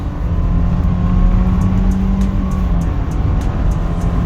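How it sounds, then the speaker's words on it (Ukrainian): Subaru Forester Limited 2.5 with automatic gearbox accelerating steadily uphill toward 100 km/h, recorded from inside the cabin as a continuous engine and road drone that holds at a loud level throughout, with no talking. "Спробуємо перевірити, як вона доїде до сотні."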